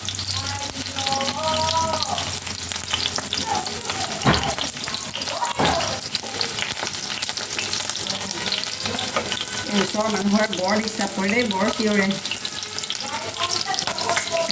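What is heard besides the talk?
onions frying in a pan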